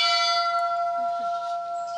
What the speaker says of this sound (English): When Hemingway received a special guest, he used to ring the bell to say welcome